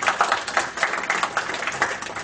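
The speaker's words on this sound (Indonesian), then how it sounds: "Tepuk tangan untuk Tuhan." A church congregation applauding during a sermon, a dense steady wash of many hands clapping together, fairly loud and close, with no talk over it.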